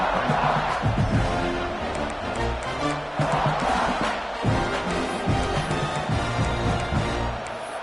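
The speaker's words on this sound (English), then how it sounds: "listen to this crowd noise. This stadium is vibrating." A large college football stadium crowd roars continuously at a Georgia vs Ole Miss game, a dense wall of cheering and shouting that swells and surges without letting up.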